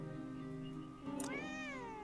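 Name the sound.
pet cat named Spooky meowing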